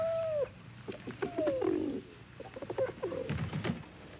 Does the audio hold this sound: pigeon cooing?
yes